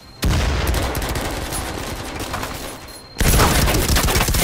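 A loud, sustained roar of blasts and gunfire fills a close firefight in Firewall Zero Hour VR. A fresh heavy burst lands partway through, consistent with another grenade going off nearby.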